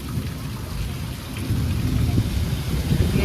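Thunder rolls low and heavy through a rainstorm, a deep continuous rumble that swells toward the end over the steady hiss of rain falling on surfaces nearby.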